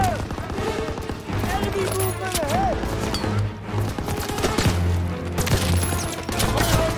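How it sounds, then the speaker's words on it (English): Machine gun fire in the World War II shooter Call of Duty WW2, loud rapid bursts and scattered gunshots layered with shouting soldiers in a chaotic battle. "Keep pressure on that MG!"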